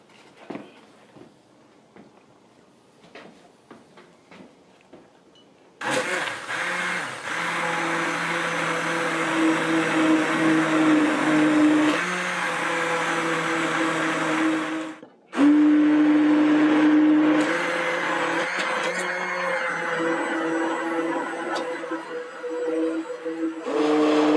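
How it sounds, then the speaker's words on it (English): A blender purees thick wild mushroom soup, a loud sustained whirring drone that starts abruptly, briefly cuts out, then resumes with a shifting motor pitch. "the next step is to puree this thing."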